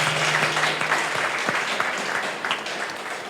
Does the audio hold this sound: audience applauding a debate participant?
yes